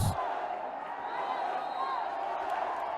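Crowd at a Royal College versus S. Thomas' College under-19 cricket match, a steady, close murmur of many voices with scattered shouts and calls running throughout.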